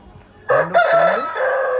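An Aseel rooster in Naidupeta, Nellore, Andhra Pradesh crows loudly and close by, one long drawn-out call with a rising and falling pitch, after a quiet moment.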